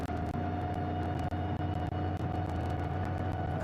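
On-board engine drone from a race car during the Shanghai 8 Hours endurance race, a steady, loud mechanical hum with a low tonal whine and faint rattles, continuous with no voices.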